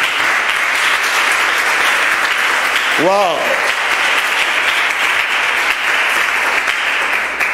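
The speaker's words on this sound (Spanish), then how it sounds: "Dile un aplauso fuerte a Jesús" A church congregation claps loudly and continuously for Jesus during a sermon, a thick unbroken wash of applause with a brief exclaimed voice rising in the middle.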